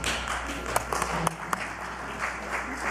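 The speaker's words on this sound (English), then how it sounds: "I appreciate the applause." Audience applause at a Peace Corps Connect closing plenary, a soft, steady patter of clapping heard from a distance in a large hall, faint and continuous with a few sharper claps.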